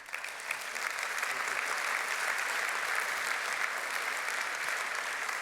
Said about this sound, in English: you really earned now a very warm and great applause